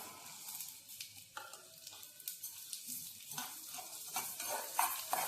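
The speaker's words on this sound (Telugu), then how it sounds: "ఇవి బాగా మనం కొంచెం ఎర్రగా వచ్చిందాకా వేపేసేయాలి" Urad dal, coriander seeds and cumin dry-roast in a pan. Close, rattling stirring strokes scrape through a light sizzle in quick irregular bursts, with no talking.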